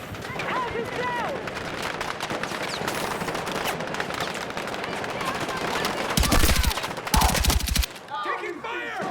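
Dense gunfire rattles through a night raid in a market souk in the Battlefield 6 video game, with sustained automatic bursts under shouted voices and two very loud nearby volleys near the end.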